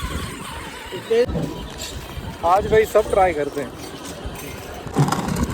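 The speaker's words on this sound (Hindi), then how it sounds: "तो भाई ये घोड़े भी आ गए" Horses neighing in short bursts near a busy spot, with the neighs rising over steady background noise while several people talk throughout.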